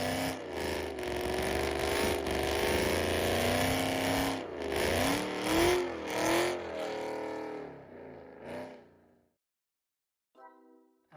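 A 2008 Ford Mustang Bullitt V8 accelerating hard through rising and falling revs, loud and close, the engine note swelling and dropping before cutting to near silence, then a short final burst.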